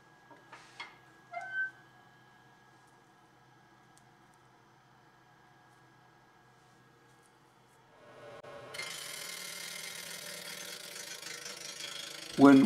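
A wood lathe spinning a natural-edge crotch bowl blank before cutting begins: a few faint knocks and clicks over near silence, then a steady motor hum with a whirring rush that starts near the end.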